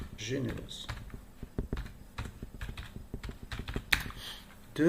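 Typing on a computer keyboard, a run of quick irregular key clicks close by, with someone speaking French over the start and end of the tapping.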